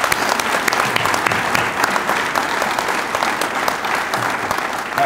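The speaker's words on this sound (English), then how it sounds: "Can we give family a round of applause?" Audience at a military promotion ceremony claps steadily in a dense, even wash of applause with no voices.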